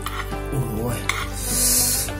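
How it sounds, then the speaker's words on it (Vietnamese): Korean udon noodles coated in black bean sauce are stirred and tossed in a bowl or pan, giving close, wet, sticky squelching and scraping with light utensil clinks. "Trộn đều lên nha"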